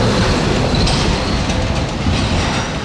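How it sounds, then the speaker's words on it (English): A Singapore MRT train running, a loud continuous rumble of wheels on rails with faint squeals and clatter, heard up close with no speech. "we're going to head down into the MRT and catch a train."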